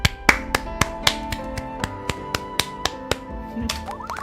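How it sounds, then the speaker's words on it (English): Clapping in the KALPA: Cosmic Symphony game, a series of sharp, evenly spaced claps ringing out over a sustained musical tone, loud and near. "Why is everyone clapping?"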